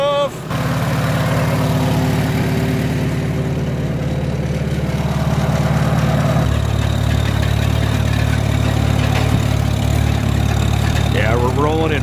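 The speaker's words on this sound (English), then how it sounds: "Rolling in fourth gear now." An antique farm tractor rolls along in fourth gear on its way to plowing, its engine a loud, steady low rumble close by that shifts pitch slightly partway through.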